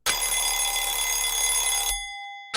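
Telephone in the Danganronpa video game ringing in one loud, continuous electronic trill that lasts about two seconds and cuts off abruptly, followed by a short burst as the next ring begins, with no talking.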